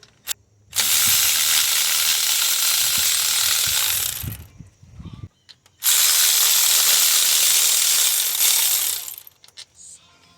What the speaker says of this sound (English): I'm gonna remove this bolt before raising up the vehicle. 17 millimeter bolt